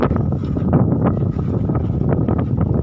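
Strong wind blows through Amreli, swaying the trees, and buffets the microphone with a constant low, rumbling roar and irregular gusty bursts throughout the short stretch.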